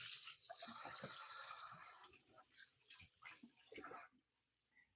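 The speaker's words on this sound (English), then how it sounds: "I'll wash my hands." Tap water runs for about two seconds while hands are washed in a kitchen sink, then gives way to brief splashes and rubbing before going quiet.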